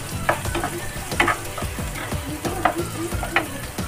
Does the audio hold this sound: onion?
yes